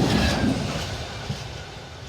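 A train passes a level crossing on the Stamford line, a steady rumble of wheels and cars close by that fades over two seconds, with no talk.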